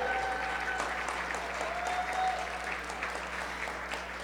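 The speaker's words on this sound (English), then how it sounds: "Let's give them a round of applause." An audience gives a sustained round of applause for local leaders and hometown heroes at a Louisville community event, dense steady clapping with faint tonal squeaks and a low hum beneath.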